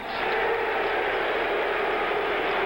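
A dense, sustained roar of a large stadium crowd booing at a Major League Baseball All-Star Game, steady and loud throughout, with no clear individual voices.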